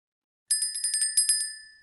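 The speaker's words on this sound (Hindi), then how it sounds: "देखो सारे घंटियां बज रही है" A burst of trading-platform alert bells rings nearby, about ten quick metallic chimes in fast succession that start abruptly and fade away, with no talking.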